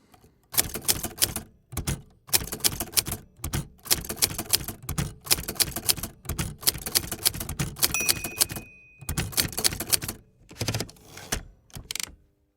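Rapid mechanical keystrokes on a Hermès Ambassador typewriter in bursts with short pauses, clacking loudly and close, with a brief bell-like ring partway through.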